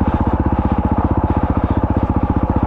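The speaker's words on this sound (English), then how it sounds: "enjoy the raw sounds of the CRF." A 2021 Honda CRF 450 dirt bike engine on an adventure ride, heard close and loud as a steady, rapid thumping exhaust pulse, revving evenly throughout.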